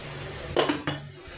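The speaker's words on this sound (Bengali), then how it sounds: "পেঁয়াজটা কষাতে থাক, এখন ঢাকা দিয়ে দেব" A lid clanks onto a pan of onions frying for a potato, pointed gourd and cauliflower curry, two or three close metallic knocks and a brief rattle in a quiet kitchen.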